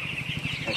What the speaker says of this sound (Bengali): একটা মোরগের বাচ্চা আছে